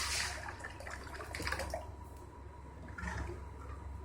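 Water is poured into a ground rasam mixture of crushed spices and curry leaves in a pot, a quiet splashing trickle that comes in uneven bursts.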